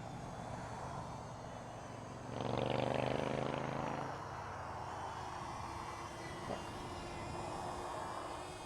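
A DJI Flip drone flies outdoors in light wind, its propeller hum steady and distant, swelling louder for a couple of seconds as it passes nearer before settling back into a faint whine under the wind.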